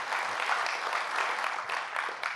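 Steady crowd applause, a dense wash of clapping hands that holds evenly throughout without any voices standing out.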